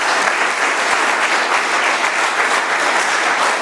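Steady, dense applause from a seated audience at an Alcoholics Anonymous meeting in Doylestown, Pennsylvania, honoring a speaker, continuous and full throughout with no voices breaking through.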